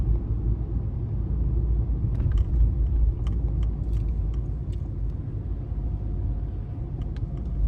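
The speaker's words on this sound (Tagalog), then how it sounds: "May traffic dito sa area na to." Steady low road rumble of car traffic passing in an area, continuous and moderately loud with faint clicks and jingles near the middle, no talking.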